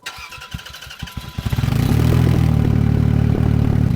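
A 2004 Land Rover Freelander V6 with a split exhaust cranks and fires up, then settles into a loud, steady idle with a throaty rumble, heard close and alone.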